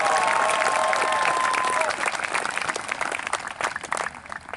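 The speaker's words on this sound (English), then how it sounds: "a big round of applause" A large audience at a 2021 high school graduation claps loudly and continuously, with scattered cheers and a whistle at first, then the applause thins and fades toward the end.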